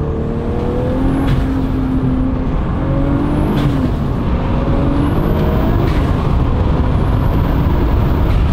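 A heavily stripped Volkswagen Golf said to make 1200 horsepower, its engine loud and steady throughout with a constant rough roar, tonal whines rising and falling, and a few sharp hissing bursts.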